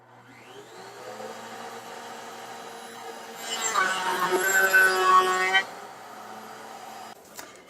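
A woodworking router spins up with a rising whine, then bites into a wooden chair rail cutting a rabbet for a couple of seconds, louder and rougher, before the motor winds down alone.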